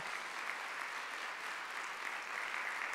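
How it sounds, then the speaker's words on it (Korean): A congregation at a Korean church Sunday service applauds steadily, dense continuous clapping filling the room for a few seconds. "박수 하세요."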